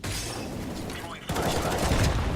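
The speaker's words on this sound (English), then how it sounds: "Throwing a grenade. Fire in the hole." A grenade is thrown in a CS:GO match, and the clip carries a dense burst of gunfire and crashing game effects that grows louder after a short dip, continuing to the end.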